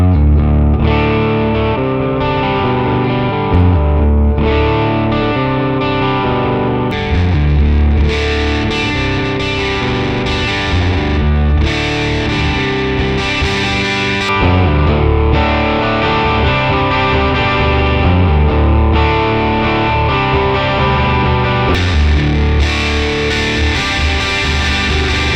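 Distorted electric guitar played through a cabinet impulse response on a Mooer Radar IR loader, with chords and riffs rhythmically strummed, loud and continuous, with short pauses between phrases.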